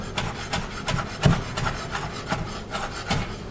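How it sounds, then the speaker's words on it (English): A knife chops fresh basil on a wooden cutting board in a rough, uneven rhythm of close, dull strikes with scraping between them. "One more chop."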